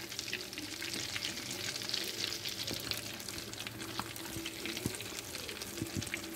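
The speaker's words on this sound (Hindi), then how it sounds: "फर्स्ट बैच ऑफ कबाब्स हो रहा है फ्राई।" Cheese kebabs frying in a pan, first batch being turned, giving a steady close sizzle and crackle with occasional utensil taps and no talk.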